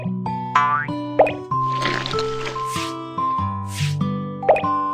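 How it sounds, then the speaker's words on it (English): In a cartoon cooking game making French cuisine, mixed milk pours in with bouncy, bubbly plopping tones, several soft drip-like pops and a fizzing swirl, with no voices. "Pour in the mixed milk."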